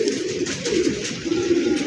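A highflyer pigeon coos nearby in soft, throaty warbling phrases that repeat in quick succession, fairly loud and close with no talking over it.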